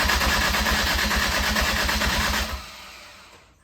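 A Ford Ranger EcoBoost engine cranks over without firing, the starter churning in a loud, even, rapid pulsing rhythm for about two and a half seconds, then stopping and fading away.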